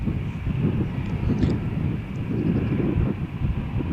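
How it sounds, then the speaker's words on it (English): An EasyJet airliner on the ground at Malaga Airport on a stormy morning, its engines rumbling with a steady low drone as it taxis toward the runway, fairly loud and constant with no speech. "the EasyJet flight to Belfast is now taxiing"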